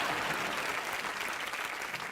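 Studio audience applause at a Hindi television comedy show, a dense, loud burst of clapping filling the whole moment without speech.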